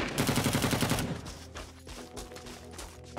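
Gunfire in the Vietnam War shooter Rising Storm 2: Vietnam, opening with a rapid automatic burst of closely spaced shots, then scattered single cracks and more distant firing over a busy battlefield background.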